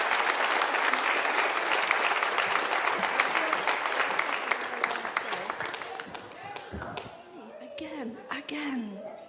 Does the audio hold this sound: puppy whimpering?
no